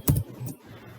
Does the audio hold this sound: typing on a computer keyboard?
yes